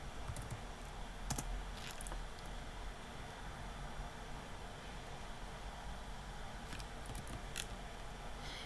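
Computer keyboard typing, a few faint sparse clicks and short bursts of keystrokes over a quiet hiss, close but soft.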